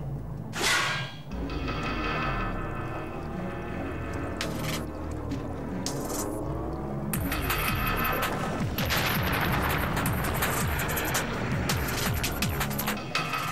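Chaotic blasts and crackling bursts erupt amid a noisy cartoon soundscape from Totally Spies!, with sharp impacts scattered throughout and a dense rumbling finish.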